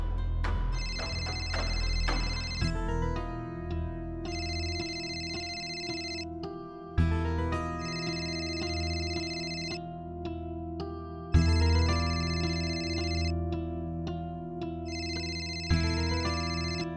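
Phone ringing during an outgoing call, a repeating electronic ringtone melody in four evenly spaced cycles, clear and steady with no talking.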